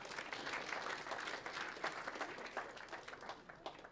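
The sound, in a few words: audience applause at awards ceremony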